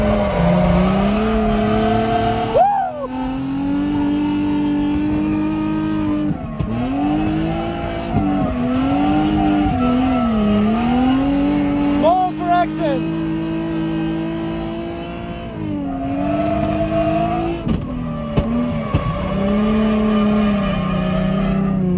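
Adam LZ's drift car is driven hard into corners at a drift event. The loud, close engine revs climb and drop repeatedly, with bursts of tire squeal between the throttle swings, and no voices are heard.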